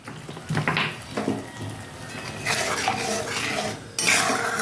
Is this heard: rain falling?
no